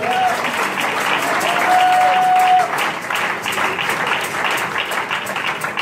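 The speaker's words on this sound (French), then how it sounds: "donne une réelle offrande d'acclamation à Dieu" A church congregation at a thanksgiving memorial service claps together in sustained, dense applause with some voices mixed in, loud and close throughout.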